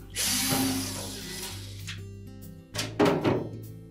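A retaining screw is backed out of a GE range drawer with a power driver, which whirs in a sustained burst, then gives a few short clunks and rattles.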